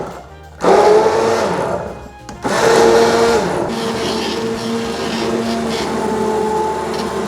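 A blender whirs loudly through tomatoes in a pot, its motor dipping briefly after a short start and then running steadily and close for several seconds.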